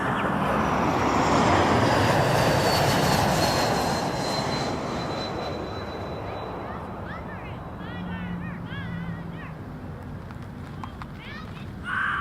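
Jet airliner roaring at Toronto Pearson Airport, a broad loud rush that slowly fades as it moves off, with a faint high whine and scattered bird chirps near the end.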